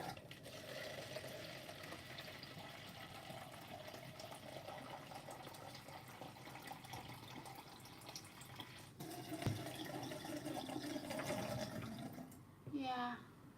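Water runs from a tap indoors as a faint, steady hiss and trickle, with a person talking over it. It swells slightly near the end.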